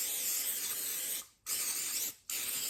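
Olive oil sprays onto breaded pork chops in two long, steady hissing bursts, each broken off by a short pause, close and fairly quiet.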